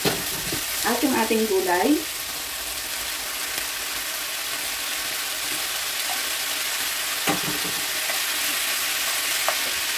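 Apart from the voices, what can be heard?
sausage and vegetables frying in a pan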